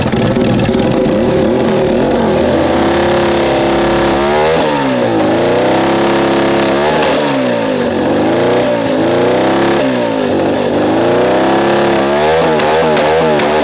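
A 150cc turbocharged go-kart engine runs loud and close, revving up and down continuously with a buzzy, rasping tone throughout.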